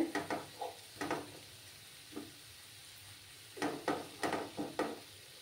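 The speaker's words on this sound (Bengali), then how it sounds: "একটু সময় নিয়ে আমি এটাকে কষাবো।" Egg masala curry being stirred and sautéed in a pan: repeated bursts of scraping and sizzling in uneven strokes, with a pause in the middle and steady frying hiss beneath, fairly quiet and close.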